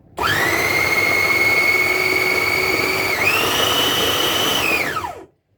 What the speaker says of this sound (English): Now that the food is already in the blender, we're going to blend it up for around 5 seconds.